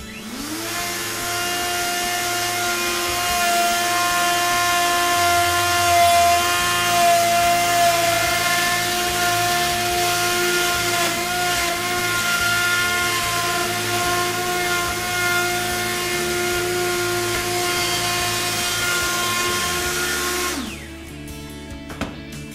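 A power tool with a clamped jig trims excess chipboard from the underside of a solid surface worktop, a loud continuous high whine running steadily for about twenty seconds before cutting off abruptly.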